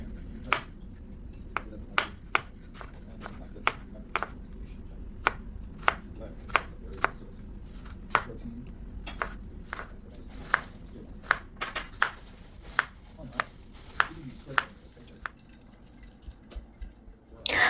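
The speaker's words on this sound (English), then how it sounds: "Now cut it into thin strips." A knife cutting jicama into thin strips on a board, with dozens of sharp, close chops in an uneven rhythm that comes in quick bursts and pauses, over a faint low background hum.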